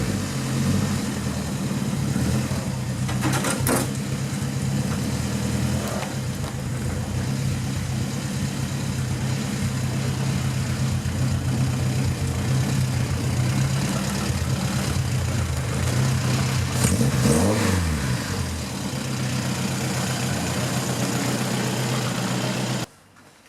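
A car engine idles steadily with the choke on, a loud continuous low hum with brief rises in pitch when it revs, running alone throughout.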